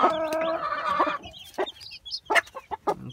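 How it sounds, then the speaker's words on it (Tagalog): Black chickens on a farm cluck close by, a drawn-out throaty call followed by short, scattered clucks and peeps from the birds and their chicks. "Cute ng mga sisiw."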